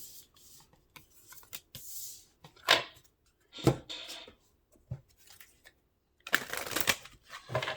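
A tarot card deck is cut and shuffled by hand, giving bursts of riffling card flutter and short taps separated by quiet pauses, with a longer shuffle near the end and no talking.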